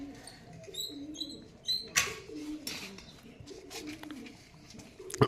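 Pigeons kept by a Punjabi pigeon-flying hobbyist coo softly at a low pitch, the faint murmur running on and off beneath scattered high bird chirps in an outdoor setting.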